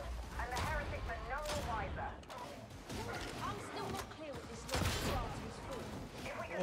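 Gunfire in Warhammer 40k: Darktide, a few sharp bursts and shots mixed with mechanical clatter, heard under a voice talking throughout.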